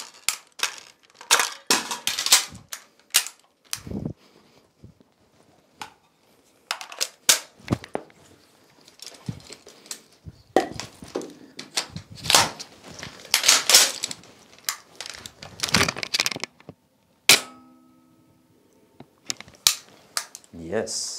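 An Stgw. 57 rifle fires at infantry targets, with loud, sharp cracks and clicks scattered irregularly among quieter gaps and people talking nearby.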